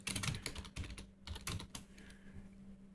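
Keys tapped on a computer keyboard while entering text into a graphics program, several quick bursts of clicks at close range with short pauses in between, fading to a quiet hum at the end.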